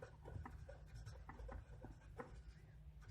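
Pen or marker writing on a surface during an HTML lesson, faint scratchy strokes in short irregular bursts, quiet and close, with no talking.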